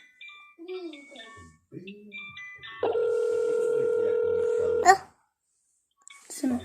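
A telephone line tone holds steady for about two seconds during a call to Santa Claus from Lapland. A child and an adult talk before it, and a short sharp click ends it.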